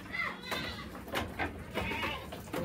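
A goat bleats several times in short wavering calls while being milked by hand outdoors, close by, with a voice and other noise mixed in.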